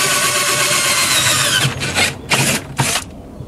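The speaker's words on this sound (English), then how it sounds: "I'm going to drill through so that just the center point of the drill bit goes through" A power drill whines steadily as it bores through material, then gives three short, separate bursts. Loud and close, with no talking.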